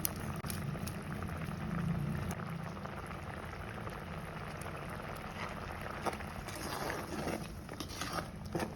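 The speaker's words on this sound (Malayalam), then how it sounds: "എല്ലാം തിളക്കട്ടെ" Fish curry in coconut milk bubbles away in a pot, a steady close simmering hiss with soft popping that runs without break, no voices over it.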